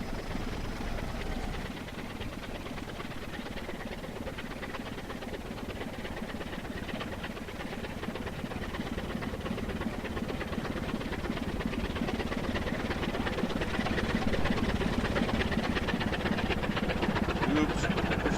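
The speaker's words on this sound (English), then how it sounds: "the trigger's expecting just one train movement across the gates" A train moves across the Grosmont level crossing gates, giving a continuous low rumble and mechanical chugging that swells gradually over a long stretch.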